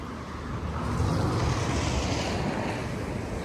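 Sea waves wash against the coast near Ordu, Turkey, as a steady, moderately loud surf wash mixed with wind rumble on the microphone, continuous and without speech.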